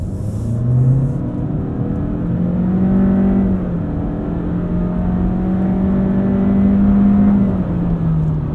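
A 2023 Honda Accord EX with the 1.5-liter turbo engine accelerates hard past 5,000 rpm, a loud, sustained engine drone that climbs in pitch with brief dips, heard alone from inside the car.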